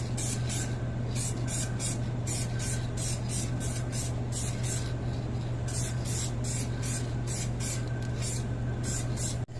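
An aerosol can sprays clear coat to blend a micro paint repair on a car panel, giving a long run of short, close hissing bursts in an uneven rhythm over a steady low hum, with no talking.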